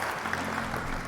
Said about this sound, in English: I have an applause sound.